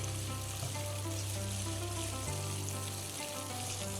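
Raisins frying in hot oil while cooking an Eid dish, giving a soft, continuous sizzle with faint bubbling and a low hum underneath, without any talking.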